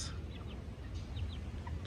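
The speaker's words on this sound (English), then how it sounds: "We love our chicks." Young chicks cheep in several short, thin, high peeps scattered over a steady low rumble, fairly faint and with no talk.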